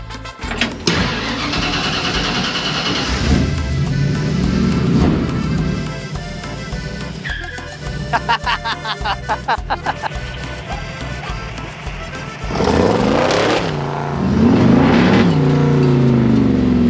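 A car engine cranks and fires, idles roughly, then revs hard in several sharp bursts before roaring loudly again, close and powerful.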